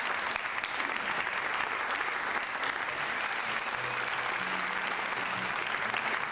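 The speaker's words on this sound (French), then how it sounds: "On l'applaudit bien fort, s'il vous plaît." A theatre audience claps for a volunteer coming up on stage, sustained dense applause throughout with a faint voice or two underneath.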